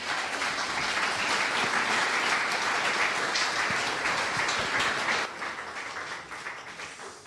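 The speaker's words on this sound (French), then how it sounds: "Merci beaucoup, on peut les applaudir." An audience at a live startup pitch evening gives sustained, dense applause with many hands clapping together, which thins and softens toward the end.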